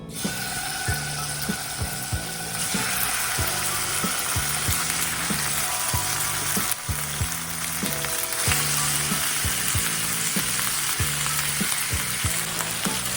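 Steady, loud sizzling of birria meat frying in a hot pan on a stovetop, with a repeating low mechanical tapping pattern running underneath throughout.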